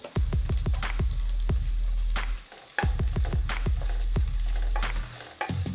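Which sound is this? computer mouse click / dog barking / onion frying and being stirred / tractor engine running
onion frying and being stirred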